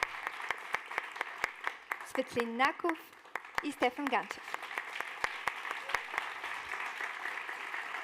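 Applause at a startup demo day as jury members are introduced, a sparse run of individual claps throughout, with someone talking over the middle.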